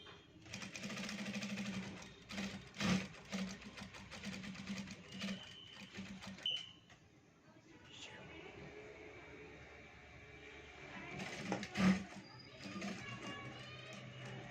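Sewing machine stitching round a bell sleeve: a close, steady whirring hum that runs in stretches and then pauses and shifts, with faint handling clicks in between.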